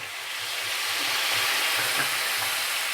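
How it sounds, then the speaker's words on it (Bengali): Water poured into a pan of frying papaya curry, a steady broad hiss and sizzle filling the whole stretch with faint low bubbling underneath, close and fairly loud. "1/2 লিটার জল দিলাম।"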